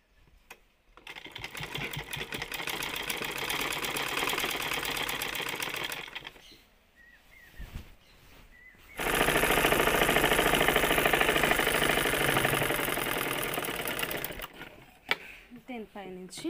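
A sewing machine stitches the folded lower hem of a simple dress in two long, steady runs of close whirring, first from about one to six seconds and again from nine to fourteen, with a quiet pause between where the fabric is shifted.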